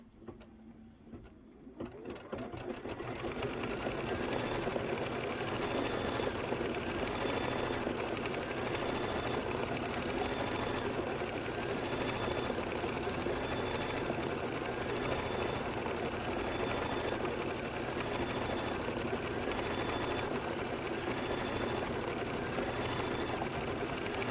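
A sewing machine stitching quilting stitches, starting up after a quiet moment and then running as a steady, fast mechanical whirr with rapid needle clatter, close and continuous.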